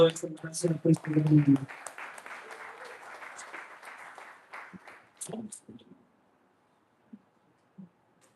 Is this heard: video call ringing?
no